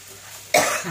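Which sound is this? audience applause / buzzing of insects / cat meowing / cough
cough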